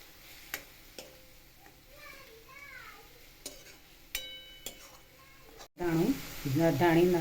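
Green peas tipped into a hot pan already holding onion gravy for matar paneer, setting off a sudden loud, steady sizzle in the last second or so, after a quieter stretch with a voice and a few light knocks.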